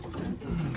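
Racing pigeons cooing close by in a loft, a short, soft, throaty burble with a low warbling pitch.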